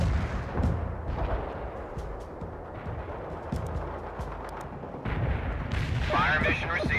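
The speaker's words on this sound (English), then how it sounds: "Fire mission received. Putting rounds on target." Artillery fire in the real-time strategy game World in Conflict rumbles as repeated deep booms and distant blasts over battlefield noise, growing louder toward the end, with some voices speaking partway through.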